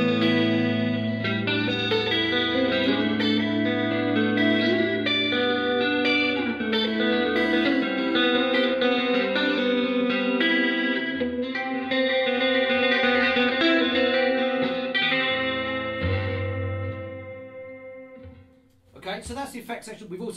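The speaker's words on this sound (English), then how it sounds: "we've got, for instance, reverb, chorus, and delay together" Fender Super Champ X2 guitar amplifier played with reverb, chorus and delay stacked together, a sustained shimmering guitar passage that swells and echoes for most of the span before fading, then a brief burst of noise at the end.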